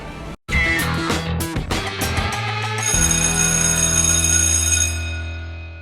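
Electronic doorbell ringing as part of a show intro jingle, a bright ringing chime over rhythmic musical hits, building into a sustained shimmering tone.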